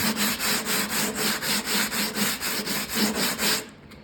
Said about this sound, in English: if you take your 80 grit sandpaper on your sanding block